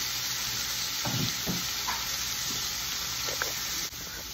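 Small slices of ham frying in a pan for breakfast, giving a constant bright hiss close up, with a few soft stirring scrapes and light taps of a utensil.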